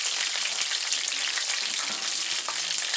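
Chicken pieces fry for stew, fully browned on both sides, giving a dense, continuous sizzle with rapid crackling pops, close and loud, with no talking.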